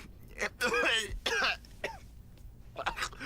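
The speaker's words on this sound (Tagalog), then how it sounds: "Inuubo lang ako." Several harsh coughs and throat clearing close up, in short bursts separated by brief pauses.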